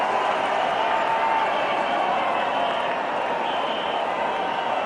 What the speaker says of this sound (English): The crowd's loving it.